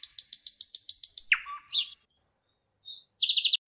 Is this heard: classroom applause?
no